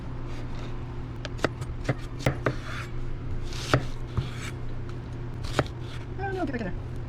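A knife chops an onion on a cutting board during meal prep, giving scattered sharp taps at an uneven pace over a steady low hum, with a faint voice partway through.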